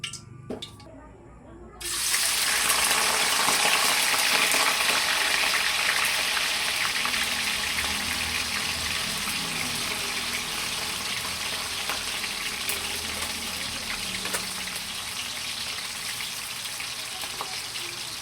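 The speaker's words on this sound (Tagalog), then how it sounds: "Ako po'y nagpapainit na dito ng mantika." Cooking oil heats and sizzles in a pan, a dense, steady crackling hiss that jumps up loud after a couple of quieter seconds and keeps going without a break.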